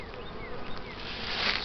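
Honeybees buzz around a hive frame of freshly drawn comb, a soft continuous droning hum close by with a few brief pitch swoops as individual bees pass, no talking.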